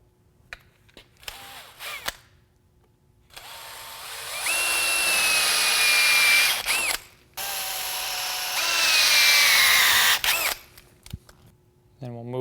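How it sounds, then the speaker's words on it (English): Drilling with a 22 millimeter (7/8 inch) bit to free terminal posts: two long, loud whining drill runs with rising and falling pitch, separated by short pauses, plus lighter tool handling and brief talk between bursts. "I'm going to start with a 22 millimeter or 7/8 drill, and we're going to come in here and drill down"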